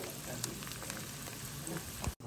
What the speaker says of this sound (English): But there's the eggs frying up.